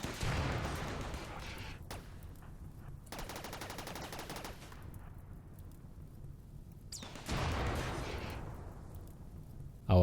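Automated turrets in the video game Rimworld fire at centipedes in rapid bursts of gunfire, with clear gaps between volleys and dense stretches of shooting in between, with no talk.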